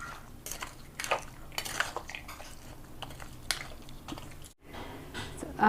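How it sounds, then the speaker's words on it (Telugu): Mustard seeds, dried red chillies and curry leaves mixed in a pan for an onion and green chilli chutney, with irregular close clinks and scrapes of a utensil against metal, fairly quiet. "ఇప్పుడు మనం ఆవాలు, ఎండుమిరపకాయలు, ఇవి కరివేపాకు, ఇదంతా బాగా కలుపుకోవాలి."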